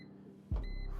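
An air fryer's control panel gives a short electronic beep, then a fan hum starts up and a steady tone sounds again briefly, all quiet and close with no talking.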